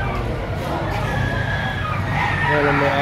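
A rooster crowing at a busy outdoor animal market in Lipa City, Batangas, its drawn-out calls rising above crowd chatter and nearby voices talking throughout.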